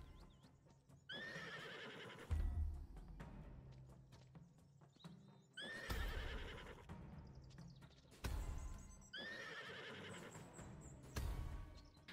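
A horse in the video game Alek The Lost Kingdom whinnies several times, loud repeated neighs with a heavy thud and hoof sounds between them, with no talk.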